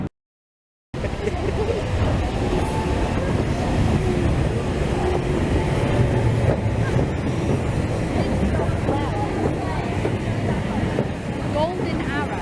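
Heritage train with a locomotive running backwards on the East Lancashire Railway, a continuous loud rumble of rolling stock with wind buffeting the microphone and people talking over it throughout.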